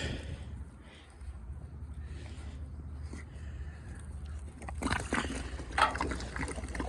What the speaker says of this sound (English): See the water coming out fast.